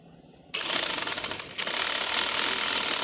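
Sewing machine stitching dori piping onto fabric, starting abruptly after a short quiet moment and then running as a steady, close, rapid mechanical whir with a brief dip partway through.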